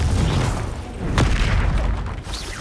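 A Confringo explosion spell cast in the video game Hogwarts Legacy lands as one sharp blast with a short rumbling tail, set amid dense, continuous game effects and background sound.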